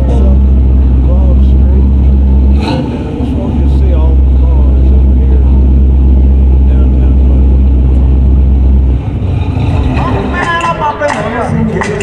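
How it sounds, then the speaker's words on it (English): A 1936 England-built Ford Anglia with a 10-horsepower engine running steadily and loudly close by, a continuous low rumble that briefly changes pitch, with someone talking over it. "this is my 36 Ford Anglia, made in England"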